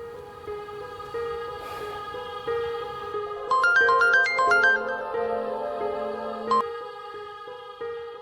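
An outgoing phone call rings as a steady electronic ringtone, with a repeating melodic pattern that swells briefly before cutting off, heard alone without talk.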